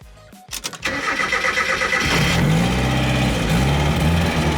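A turbocharged Mazda Miata engine cranks briefly, catches and settles into a loud, steady idle close by.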